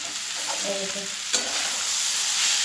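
Boiled flat beans and potatoes fry in a pan, a continuous hissing sizzle broken by one sharp scrape of a spatula partway through.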